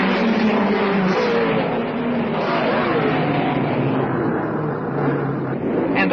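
A dense, loud roar of 1.5-litre Grand Prix cars pulling away together at the 1961 Monaco start, heading into the gasworks turn, sustained and close for the whole stretch.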